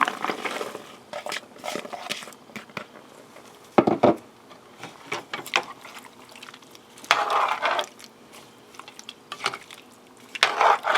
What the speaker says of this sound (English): now we're going to add our carrots and potatoes to this.